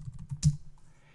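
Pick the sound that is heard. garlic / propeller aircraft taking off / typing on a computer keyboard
typing on a computer keyboard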